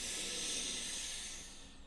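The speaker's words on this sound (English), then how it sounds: "Breathing in." Slow, deep inhalation during a guided heart-breathing practice: one long soft airy hiss, close to the microphone, steady and then fading toward the end.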